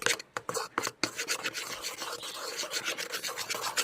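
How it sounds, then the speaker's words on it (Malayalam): Slime mixture with powder stirred in a bowl, a steady close rasping, rubbing scrape that starts in a few separate strokes and then runs continuously without pause. "സ്ലൈമായി വരുന്ന വരെ നമുക്ക് നല്ലോണം ഇളക്കിയെടുക്കാം"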